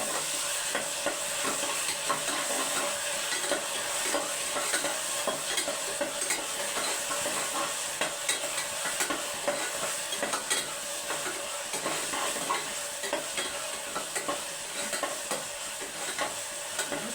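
Onion and ginger-garlic paste fry in a pan under a constant bright sizzle while a spoon scrapes and stirs in a continuous, busy rhythm, with no voices throughout.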